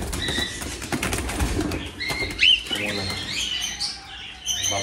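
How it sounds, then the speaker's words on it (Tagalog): Birds and young chicks at a farm harvest site, chirping and cooing with bursts of wing flapping, close and fairly loud, with a brief voice under the activity. "Ayan, kung nakikita nyo mga kaibon. Ayan, oh. So may sisiw din."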